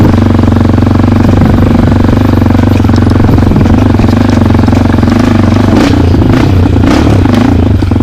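A motorcycle ridden slowly along an off-road dirt trail, its engine droning low and steady throughout, with clattering and scraping from the rough ground.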